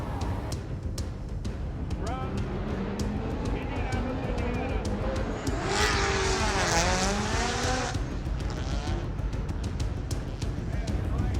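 A Formula Drift race car driven hard at Long Beach, its engine revving and wailing in rising and falling sweeps, with tire squeal swelling loudly midway under a constant roar of crowd and track noise.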